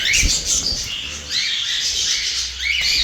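Several pet birds in a flight cage squawk and chirp, harsh high calls overlapping in quick bursts, loud and close, with faint low thumps beneath.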